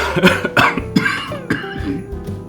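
A single person coughs repeatedly into the crook of their elbow, close and loud, with several sharp bursts spaced about half a second apart and no talking.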